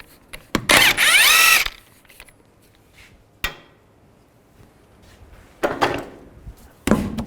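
A power tool with a 21mm socket spins off the lug nuts of a 2005-15 Nissan Xterra's wheel in loud, close bursts of impact whirring, with metallic clanks and quiet gaps between them.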